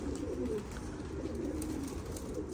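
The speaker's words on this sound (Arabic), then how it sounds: "طيور نشطه وقويه" Pigeons coo in low, soft, continuous murmurs that overlap steadily, as from a loft full of active birds close by.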